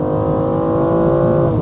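BMW M235i engine held at high revs under hard acceleration, a steady loud drone with a rich, even tone lasting a moment and no voices over it.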